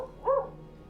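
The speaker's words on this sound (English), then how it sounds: "The only thing that's protecting us is our dogs barking." A single dog barks once in a sharp yip at a distance, in a dark, quiet rural community with little street lighting.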